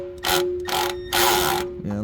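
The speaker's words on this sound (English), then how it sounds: "I wanted to get a impact wrench and a 14mm socket and cinch down this oil pan nut." An impact wrench fitted with a 14mm socket tightens a car's oil pan nut in three loud, sustained bursts of rattling hammering, each lasting a fraction of a second to a second, close up, with a steady hum beneath and a short vocal sound at the end.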